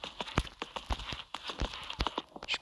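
A horse's hooves pound the ground in a quick, steady galloping rhythm of close, heavy thuds during a show jumping round.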